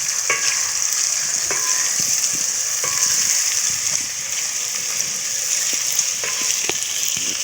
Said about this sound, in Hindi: दोस्तों, हमारी यहाँ प्याज भुन रही है।